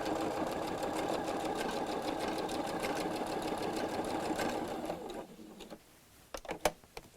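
A sewing machine stitches through thick layers of bias tape in a rapid, steady whirring run that stops after about five seconds, followed by a few quieter clicks and handling sounds.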